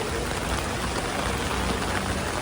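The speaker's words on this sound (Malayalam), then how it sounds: "മഴ കൂടി." Heavy monsoon rain in Mumbai near a bus queue: a dense, loud, steady wash of rainfall with no breaks, close and alone.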